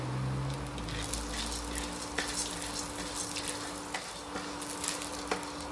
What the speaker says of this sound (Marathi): आता त्यात मी सर्वात आधी ही चण्याची डाळ जी आहे ती भाजून घेणार आहे।